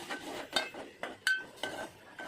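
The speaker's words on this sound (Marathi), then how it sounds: "आणि ह्याला हलवून व्यवस्थित मसाल्याला पण परत एकदा फ्राय करायचं." Metal spoon stirring and scraping masala frying in a little oil in a pan for a Karla masala rassa, a series of light clinks and scrapes at an irregular rhythm, close and fairly soft.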